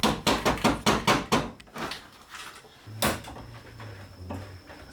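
A hammer taps the clutch cable sheath on a Japanese-market Peugeot 205 Rallye, a quick run of sharp metallic knocks, then a few scattered thuds and faint shuffling, close and with no voices.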